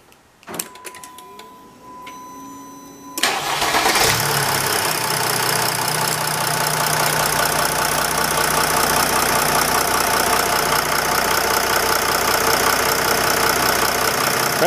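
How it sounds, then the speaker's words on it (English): A few clicks and a whirring crank, then a Jeep Grand Cherokee's OM642 diesel engine catches and settles into a steady, loud idle that drones on with a rough, knocking rumble. "use the remote start, and we'll see how long it takes to fire up"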